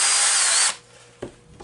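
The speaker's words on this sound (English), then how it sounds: "Simply drill a straight hole through a piece of wood" A power drill boring a straight hole through a piece of wood: a loud high whine for under a second, then the motor cuts off, leaving a couple of soft knocks.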